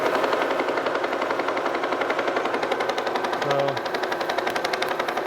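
A Kearney & Trecker Model 2H vertical milling head attachment runs in a higher gear with a rapid, even rattling clatter. The sound is loud and close and persists throughout, with one brief word spoken partway through.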